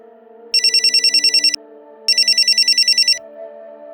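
A telephone rings with two bursts of a bright, rapidly pulsing electronic trill separated by a short pause, loud and close over faint background noise.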